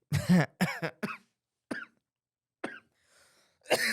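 A close series of harsh coughs, a quick cluster followed by a few single spaced coughs and a final loud one, with quiet breathing between.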